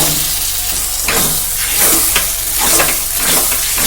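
Spiced lentil paste for dhoka fried and stirred in a pan, a steady close sizzle broken by repeated scraping strokes of the spoon at an even rhythm, with no voices.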